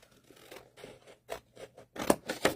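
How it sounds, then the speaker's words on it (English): Scissors snip through paper for a 3x3 craft section, a few soft scattered cuts building to two louder, crisp snips near the end, close by with no talk. "I'm just going to take my scissors and I'm going to cut it this way."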